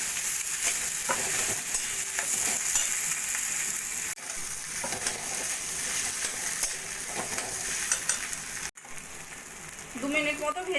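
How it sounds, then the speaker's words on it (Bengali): Boiled potatoes broken up and fried with spices in a pan sizzle steadily, with a spoon or spatula scraping and stirring, a brief pause near the end, and some clatter. "এবার একটু মশলার সঙ্গে 2 মিনিট মতো ভাজা ভাজা করে নেব।"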